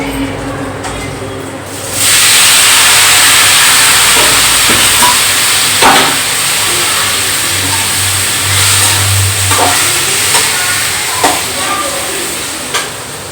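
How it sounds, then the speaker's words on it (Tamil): Boiled pumpkin pieces tipped into a hot pan with sautéed aromatics for a Tamil pumpkin poriyal, setting off a steady sizzle and fry hiss with occasional clinks and scrapes of stirring, close and continuous. "நம்ம அவிச்சு வச்சிருக்க காய எடுத்து இப்போ நம்ம போடுறோம்"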